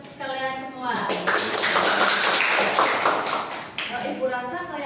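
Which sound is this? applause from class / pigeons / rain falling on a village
applause from class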